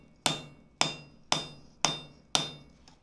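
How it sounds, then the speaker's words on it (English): Five sharp hammer blows ring out at an even pace on a chain link being forge welded. Each strike is loud and close, with a metallic ring that fades before the next blow. No one speaks. "now hammer straight down there"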